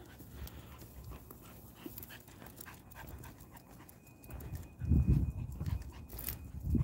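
Dogs pant rapidly and scuffle about nearby at a dog park, their breathing steady at first and then growing louder and heavier toward the end.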